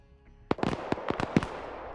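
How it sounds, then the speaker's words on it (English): A rapid cluster of sharp explosive bangs from M67 grenades in a video game, several overlapping blasts in under a second, punchy and close, with no speech. "I think the M67s changed their grenade sounds."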